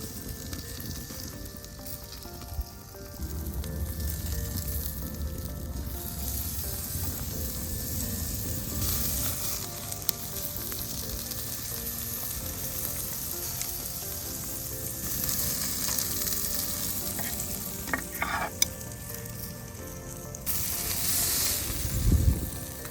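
Walmart Wagyu steak sizzling over a cooking fire pit, a loud continuous sizzle with occasional scrapes and clicks, and a brief surge of hiss near the end, heard close up with no talking.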